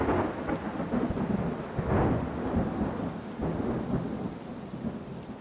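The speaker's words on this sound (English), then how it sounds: "the mother of all thunderstorms showed up" A thunderstorm over a garden of flower beds, with heavy rain pouring steadily and low thunder rumbling and rolling throughout, loud and continuous with no voices.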